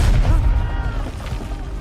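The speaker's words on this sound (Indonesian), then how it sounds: "Setiap beberapa menit, tembakan artileri bergerak maju." Artillery fire in a World War I battle scene from a war film, heavy low booms and rumbling blasts in a continuous barrage, loud and close.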